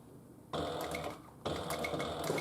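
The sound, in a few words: sewing machine stitching Paulette handbag top zipper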